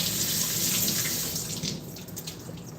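Steady running water from a kitchen tap fills the sink while dishes are washed, including a heavy Dutch oven, a continuous hiss and splash at close range with no talking.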